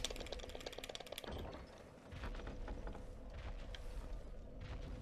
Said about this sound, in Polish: No to drzwi słyszy.